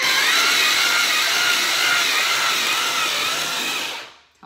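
An electric ice shaver grinds ice for snow cones with a loud, steady whirring roar that holds for about four seconds before spinning down and stopping.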